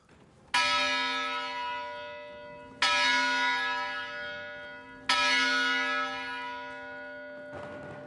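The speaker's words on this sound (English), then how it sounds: "You know it's time to go to class when the Sphinx Club rings this bell." The class bell at Center Hall, Wabash College, rung by the Sphinx Club: three loud, evenly spaced metallic strikes, each ringing out with a long resonant decay.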